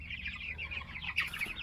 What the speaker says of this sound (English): Whoa, watch out, chickens.